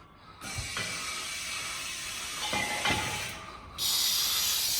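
An old air-powered jack for lifting crop sprayers, fed from a workshop compressor, hisses loudly and steadily with a few short clunks in the middle and a sharper, brighter rush of air near the end, heard close with no talk.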